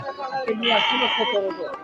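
A sheep at a rainy livestock market (the Gas Line hat in Ullapara) gives a close, loud, wavering bleat, one drawn-out call with short shakier bleats around it.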